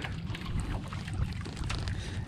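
A small fishing boat's engine drones on open water during a fishing trip, a loud, rough low rumble mixed with wind buffeting the microphone and no clear voices.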